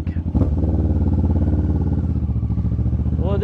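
A Kawasaki Ninja 650 fitted with a loud Delkevic exhaust revs hard and close, a booming, raspy engine note that climbs and holds, with a brief clatter near the start.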